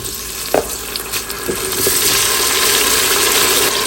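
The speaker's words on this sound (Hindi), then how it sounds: "अब आगे इसकी करें भुनाई और साथ ही गोश्त डालें" Tomatoes and spices frying in a pot for aloo gosht, a close, steady sizzle that grows denser and louder, with a few stirring knocks early on and no speech.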